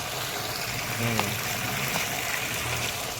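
Water overflowing and streaming through an aquaponics system, a steady gushing flow close by with someone speaking over it.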